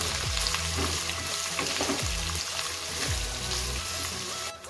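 Jackfruit vegetable mixture sizzling and frying in a pan on the stove, stirred with a few rhythmic scraping strokes over a steady loud crackle.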